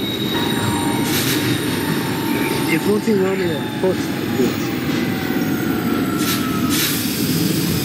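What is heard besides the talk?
subway train pulling into station in OpenBVE train simulator game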